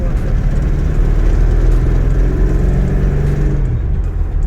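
A 1965 Ford Mustang engine idling as it warms up, a loud, steady, close low rumble with a slight uneven pulse that holds for the whole stretch.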